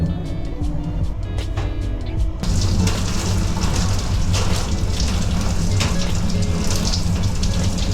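Shower running aboard the Spirit of Queensland sleeper train, a loud steady hiss of spraying water that swells after a couple of seconds, with the rumble of the moving train beneath it throughout.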